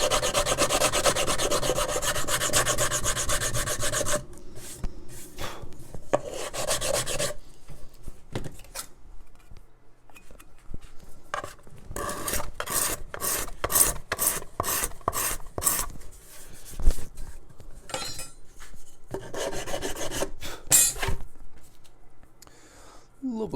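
Scraping excess binding off a handmade guitar body, bursts of close, rasping strokes in quick rhythmic runs with pauses between, no talk over them.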